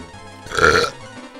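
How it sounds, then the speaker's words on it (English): A single loud, close burp from a game character in Breath of Fire, rising and fading over about a second with no talk around it. "And we gotta preserve that burp."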